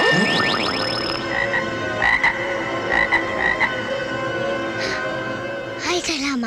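A frog croaks in a Filipino comedy film, repeated croaks heard close and loud over music and sound effects, with people talking around it.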